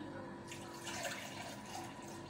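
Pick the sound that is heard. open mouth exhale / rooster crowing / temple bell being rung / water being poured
water being poured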